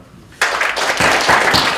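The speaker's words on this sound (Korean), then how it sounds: "여러분 박수로서 인사드리겠습니다" A crowd at a Gyeonggi Province disability welfare forum breaks into applause after a short quiet moment, steady dense clapping sustained to the end.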